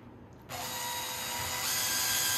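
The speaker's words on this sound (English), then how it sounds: "I'm going to even use the vise." A vise is tightened on a small plastic toy, starting with a soft mechanical sound and then a loud, steady, grinding ratchet-like whir that swells slightly and holds until the end.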